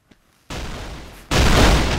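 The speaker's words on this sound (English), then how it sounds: "he's trying to bomb me" Bomb explosions in the Blockman Go Skywars video game: a short tick, then a sudden blast that fades slightly, followed by a second, louder sustained blast, loud and close.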